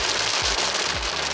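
A heavy tropical downpour pours outside a hotel in Chiang Rai, Thailand: a dense, loud, unbroken hiss of rain with a few low thuds underneath.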